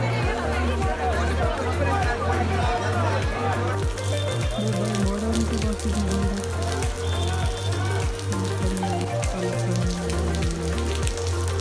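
Dense crowd hubbub fills a busy street in Baramulla during Eid ul-Fitr in a traffic jam, with steady rain hissing underneath, constant murmur of many voices and a low rhythmic thumping throughout.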